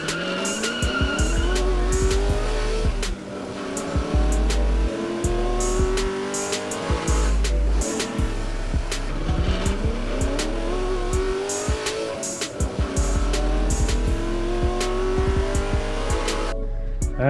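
Die-cast Hot Wheels toy cars, a Dodge A100 and a Volkswagen Beetle, racing on a one-mile drag strip track, producing a continuous loud rolling and whirring with repeated sharp clicks and rising sweeps, no talking.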